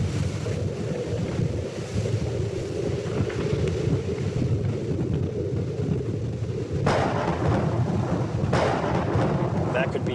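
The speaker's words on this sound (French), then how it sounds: "Ça pourrait être le prochain orage que nous allons suivre." Rumbling thunder from a storm rolls continuously through the whole stretch, low and heavy, with wind noise buffeting the microphone and a sharper crack swelling in partway through.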